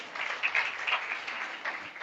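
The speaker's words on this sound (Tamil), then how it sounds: "கைத்தட்டி இயேசுவின் நாமத்திலே" A church congregation claps their hands together in a dense, continuous round of applause that holds steady for about two seconds.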